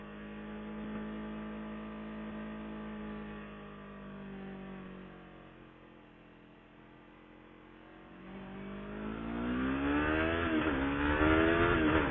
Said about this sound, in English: I love taking off on this motorcycle